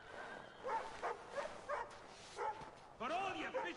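A dog in Assassin's Creed 3 gives a string of short, close barks and yips in an uneven rhythm, ending with a longer whining bark, with a voice speaking over it.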